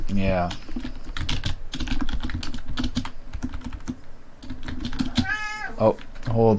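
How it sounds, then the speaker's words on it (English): A cat meows loudly near the start and again near the end, wanting to go out, over steady computer keyboard typing that clatters throughout, with some talk underneath. "my cat is ready to go out or something"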